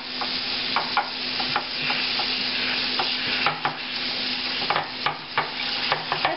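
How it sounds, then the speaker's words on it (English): Wet Koolaid-dyed wool roving squeezed by hand to press out excess water, giving soft, close squelching and dripping with faint splashes and repeated short bursts, no talking. "I'm going to squeeze out the excess water"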